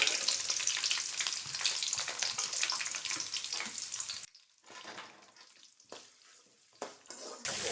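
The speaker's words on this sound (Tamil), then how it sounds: "வெங்காயம் நல்லா வதங்கட்டும்" Chopped onion with green chillies and curry leaves sizzles in a pan for ragi semiya, a loud steady frying hiss that cuts off halfway, followed by quieter scattered stirring sounds and small clinks.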